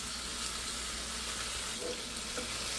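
Bengali wedding-style chicken roast ingredients being stir-fried in oil with cinnamon, giving a steady close sizzle with faint scraping of stirring throughout.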